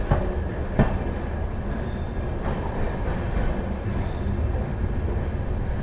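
Kotdwar Express LHB passenger train pulling out of Tapri Junction, a steady rolling rumble of carriages with faint wheel clicks and occasional squeaks, continuous and fairly close.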